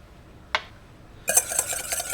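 Whisking mustard and egg yolk in a bowl to start a rémoulade mayonnaise, heard as one sharp clink and then a steady, close run of metallic scraping and tapping strokes.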